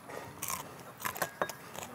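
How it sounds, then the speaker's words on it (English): Fried crab eaten whole in Ninh Binh, Vietnam, crunches close up as the shell is bitten and chewed, with a few sharp cracks over about two seconds. "The shell, super crunchy"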